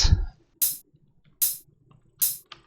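Three crisp Sultan cymbal hits from a dubstep track ring out one by one at an even, unhurried pace, each a bright splash that fades quickly into silence.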